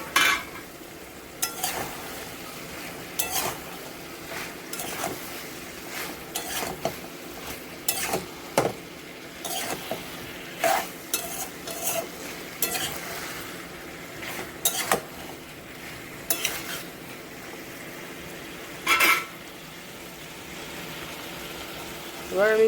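Boiled taro stolons stirred and fried with prawns in a pan, with a low sizzle broken by repeated sharp scrapes and clinks of a spatula against the pan at an irregular rhythm, some faint talk mixed in.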